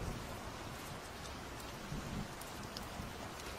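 Soft, steady rain falls as a storytelling sound effect, a faint, even hiss of drops with no voices or other sounds.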